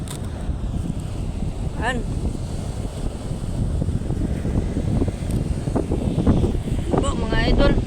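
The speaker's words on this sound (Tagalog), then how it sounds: "Malakas ang hangin." Strong wind at sea buffets the microphone on a boat in a constant loud rumble, with a voice speaking briefly over it.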